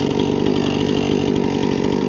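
A chainsaw runs at a loud, steady roar while cutting logs into firewood, the engine tone pulsing slightly as the chain bites through wood, with no talking.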